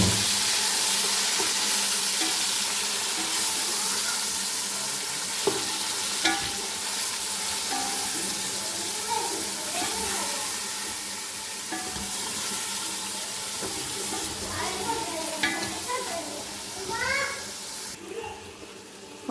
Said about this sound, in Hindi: अब मैं चिकन को इसमें अच्छी तरह 5 से 7 मिनट फ्राई कर लेती हूँ, इसका कलर चेंज होने तक।